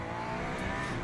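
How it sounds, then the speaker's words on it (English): Hard braking of a race car in Le Mans Ultimate, a steady engine drone with a faint rising tire squeal, loud and continuous for about a second, with no talking. "Mega braking."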